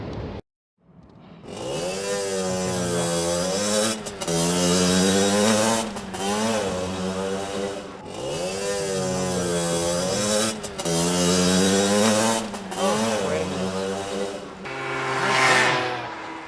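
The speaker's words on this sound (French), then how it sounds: "encore ce bruit de scooter" A scooter engine revs loudly and close by, its pitch rising and falling in repeated surges with brief drops between them.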